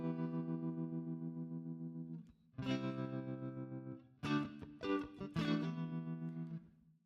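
Electric guitar chords ring with a pulsing tremolo effect in a psychedelic style, sustained strums broken by brief gaps and a few sharper, rapid strummed hits.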